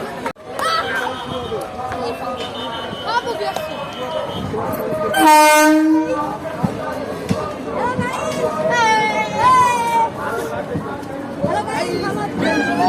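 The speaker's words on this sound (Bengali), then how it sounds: "আসছে ট্রেনটা কিছুক্ষণের মধ্যে ঢুকছে আমাদের প্ল্যাটফর্মে" A train pulls into the single-line Amghata station platform on the inaugural special of the reopened Amghata–Krishnanagar line, its horn blasting briefly midway while a crowd chatters and people talk throughout.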